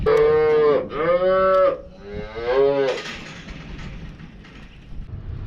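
Cows and calves call out in three loud, drawn-out moos close by, followed by rustling and clattering farm noise.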